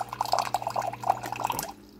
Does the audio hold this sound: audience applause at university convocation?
no